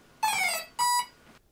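Two short electronic beep tones from a HobbyKing ESC in programming mode sound in quick succession, the first slightly longer than the second, clear against a quiet background.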